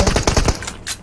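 In the PUBG video game, a quick burst of rapid automatic gunfire rattles off about half a dozen close, loud shots, then cuts off and fades.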